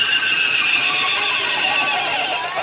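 A stage performer at a Holi poetry gathering in Banaras imitates a horse whinny with his voice, giving a bright, wavering neigh that holds steady for a few seconds before trailing off.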